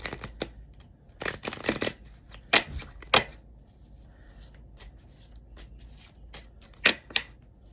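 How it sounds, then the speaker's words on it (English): Playing cards are shuffled in quick riffles and soft slaps, several bursts of crisp papery flutter spread out over a quiet background. "One more shuffle for Sag."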